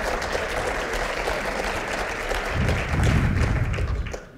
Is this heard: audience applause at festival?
yes